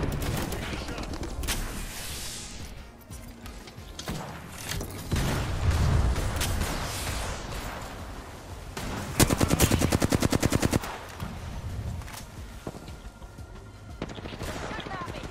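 Gunfire in the online shooter game Apex Legends, with rapid automatic bursts and single cracks, including a dense loud volley near the middle, mixed with mechanical clanks and a player talking.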